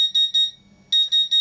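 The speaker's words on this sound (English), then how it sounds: "When I turn it on, an alarm will go to say that it's got too much pressure, the water isn't flowing." A VEVOR 15 kW induction forge sounds its water pressure alarm at power-up: a loud, shrill electronic beep pulsing in short bursts, pausing briefly, then resuming in quick repeated tones.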